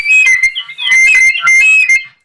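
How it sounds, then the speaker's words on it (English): A clarinet squeals as teeth press on the reed, giving loud, piercing high-pitched squeaks in several bursts with short gaps, heard alone with no talking. "Oh, that's teeth on reed."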